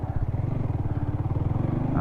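A Yamaha R15 V4M motorcycle in good condition is being ridden. Its engine gives a steady, close, pulsing drone that rises slightly at the end.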